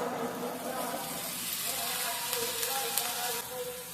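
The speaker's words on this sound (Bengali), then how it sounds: "মশলাটাকে কিছুক্ষণ ভেজে নেওয়ার পর দিয়ে দিব ছোলা বুট" Sizzling and crackling as chickpeas (chola boot) go into a spice paste of ground chillies frying in a pan, a broad steady hiss with stirring scrapes, close and fairly loud throughout.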